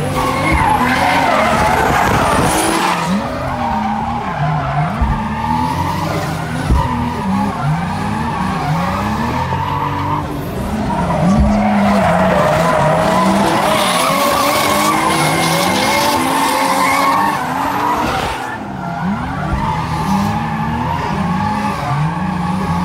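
A car drifting with tires skidding and squealing, a Nissan 350Z, continuous loud tire screech over a revving engine, swelling and easing through several long slides.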